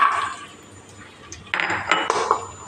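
Whole garam masala, cashews and raisins frying briefly in hot ghee in a pan, a faint sizzle followed by close metallic clinks and scrapes of a spoon against the pan, with no talking.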